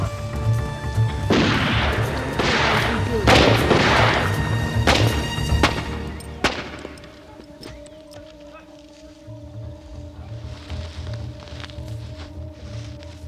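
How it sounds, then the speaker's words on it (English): Shotgun rounds fired by poachers at soldiers in the African bush: a run of loud, booming blasts in quick succession across the first half, then a quieter, murmuring background. "Two shotgun rounds blasted at the nearest soldier sealed the fate of these poachers."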